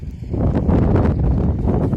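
Wind buffets an outdoor microphone in a steady, loud low rumble with gusting swells, recorded at an alfalfa field during sowing on a cool day.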